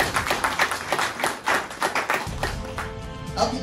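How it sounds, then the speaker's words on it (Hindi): An audience at a motivational talk claps for the businessmen among them, a dense, uneven burst of hands close by, thumping and busy, easing slightly toward the end. "एक बार जोरदार तालियां सभी बिजनेसमैन लोगों के लिए।"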